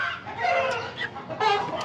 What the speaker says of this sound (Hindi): ये पीला मुर्गा जी गंजू क्रॉस मदारी वाला, ये उसके बच्चे हैं जी पीले